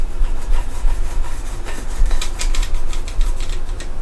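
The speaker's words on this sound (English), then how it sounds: "Cut that part off with the saw." A hand saw cutting through wood to shape a bushcraft axe handle, a steady back-and-forth rasping stroke repeated at an even rhythm, close and loud, with no voices.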